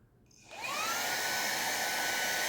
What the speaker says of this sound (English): For turning on the vacuum cleaner, long press it for 3 seconds.